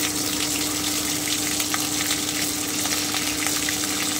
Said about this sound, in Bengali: এবারে আমি জিরে বাটাটা দিয়ে দিচ্ছি 1 চামচ মতো, আদা বাটাটা দিয়ে দিচ্ছি